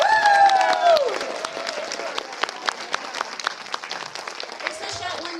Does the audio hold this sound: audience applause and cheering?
yes